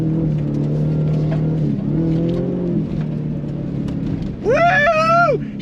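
A 2024 Ford Raptor R pickup engine held at a steady loud drone, then snapping into a rising rev on throttle near the end, close and continuous.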